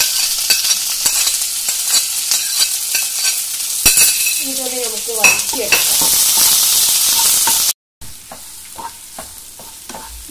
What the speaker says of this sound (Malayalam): ഇതിലേക്ക് കരിവേപ്പില, 3 പച്ചമുളക്, 1/2 teaspoon ginger garlic paste, 2 medium ടൈപ്പുള്ള ഉള്ളി,